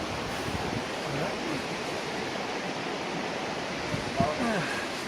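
A waterfall in the mountains of Grand Bassin on Réunion Island gives off a steady, dense, even rushing roar, with only a faint brief sound near the end.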